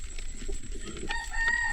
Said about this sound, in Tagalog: Ops, manok.